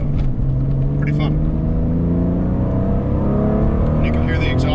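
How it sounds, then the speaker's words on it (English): The exhaust of a 2000 Porsche 996 Carrera 2 Cabriolet drones steadily as it drives in cold weather on summer tires, loud and close, with someone talking briefly over it. "You can hear the exhaust."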